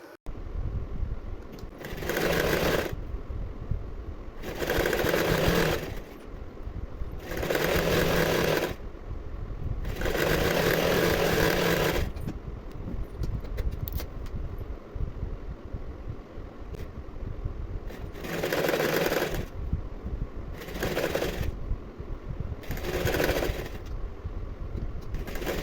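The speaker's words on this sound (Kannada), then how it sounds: "ಮತ್ತೆ ನಾವು ಈಗ ಬ್ಲೌಸ್ ಪೀಸ್ನ ಮತ್ತು ಲೈನಿಂಗ್ನ ಸೇರಿಸಿ ಎರಡೂ ಕಡೆ ಒಂದೊಂದು ಸ್ಟಿಚ್ನ ಹಾಕೋಬೇಕು" Sewing machine stitching a blouse piece together with its lining, running in distinct bursts of a few seconds each, separated by short pauses, close and fairly loud.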